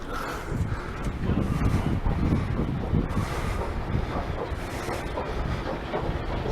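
Rail noise at a station, with a train held at the platform: a steady broadband rumble and low clatter with some wind buffeting, continuous at moderate level throughout and no talking.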